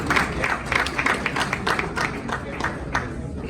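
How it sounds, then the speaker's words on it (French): A crowd claps together in a steady patter of applause at a Human Rights Day ceremony, moderately loud and continuous throughout. "Un gros applaudissement pour Jacques-Antoine Basile."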